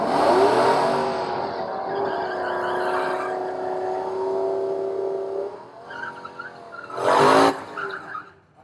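Cars at a drag strip during an LS engine festival roar past with a long, loud engine drone and tire screech, fading, then another sharp burst of squealing tires and revving.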